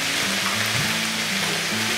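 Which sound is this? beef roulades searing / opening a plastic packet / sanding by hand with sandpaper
beef roulades searing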